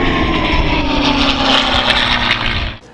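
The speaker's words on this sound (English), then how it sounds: "Shut up, compressor." An air compressor runs in a scale-model painting workspace, a loud, steady motor drone with a buzzing harmonic edge that cuts off abruptly at the end.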